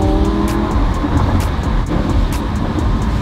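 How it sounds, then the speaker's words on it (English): A Lamborghini in Corsa race mode accelerates on a wet road at about quarter throttle, its engine roaring loud and close with steady broadband rumble and sharper bursts at shift points, no talking over it. "if I put it in like race mode, which is Corsa, you'll feel the shift difference"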